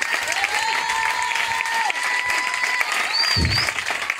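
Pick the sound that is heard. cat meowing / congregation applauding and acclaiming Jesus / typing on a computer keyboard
congregation applauding and acclaiming Jesus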